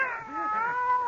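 A cat yowls in a radio drama sound effect, a drawn-out wavering caterwaul with rising and falling pitch, close and alone for about a second.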